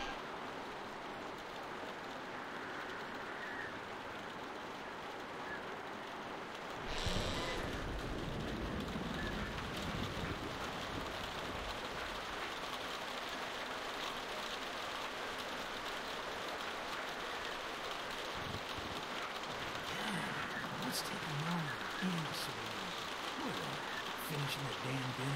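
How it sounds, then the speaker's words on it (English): Steady rain falls outside a barn as a constant close hiss, with voices talking quietly underneath. "We've been sitting out in the rain for 10 years."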